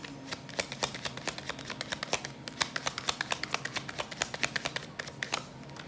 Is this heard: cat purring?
no